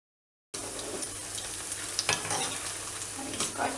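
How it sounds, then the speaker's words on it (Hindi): Cauliflower deep frying in hot oil for Gobi Manchurian, a dense, loud, steady sizzle that starts abruptly, with occasional pops and scraping stirs close at hand. "एक कॉलीफ्लावर को गोल्डन ब्राउन होने तक उसको डीप फ्राई करना है"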